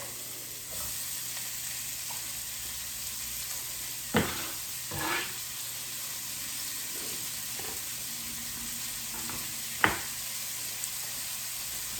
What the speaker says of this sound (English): Give them a stir. Get them coated in all that coconut oil and chicken fat.